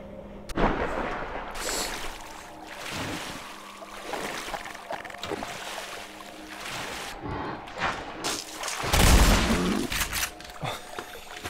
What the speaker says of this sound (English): I do love how it just fucking explodes.